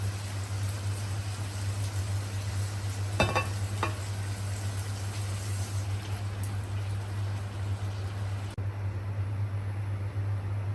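Kasuri methi, dried fenugreek leaves, dry roasting in a pan, a soft steady hiss over a constant low hum, with a couple of brief scraping stirs and a faint crackle, no voices.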